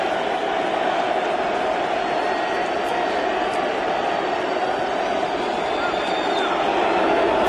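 A baseball stadium crowd stands and cheers during the sixth inning of the 2006 ALCS Game 3, a steady, dense roar of voices and applause that holds without a break.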